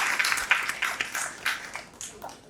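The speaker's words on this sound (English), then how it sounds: "Big round of applause for our speakers." A festival audience applauds its panel speakers, a steady patter of many hands clapping through the whole stretch at moderate loudness, with no voices over it.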